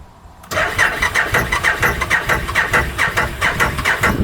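A used UTV engine cranks and fires up after a brief quiet moment, then settles into a rough, pulsing idle close by.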